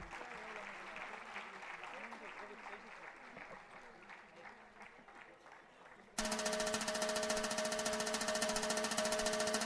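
A crowd at an Ashadhi festival gathering claps steadily, dense applause that grows suddenly louder and brighter partway through, with no voices over it.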